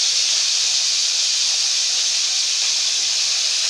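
Cauliflower fries in a pan, a loud, steady, close hiss of sizzling oil that holds unbroken throughout with no pauses or talk.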